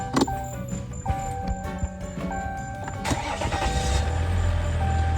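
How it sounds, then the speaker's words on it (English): A Ram vehicle's engine cranks and catches after a few clicks and chimes, then settles into a steady idle rumble nearby. "start the vehicle to reset"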